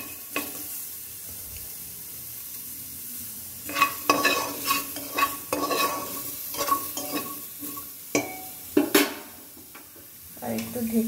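Broken wheat (dalia) being stirred and fried in a pan, with a soft sizzle and a run of scraping, clinking stirring strokes at close range, and little talk.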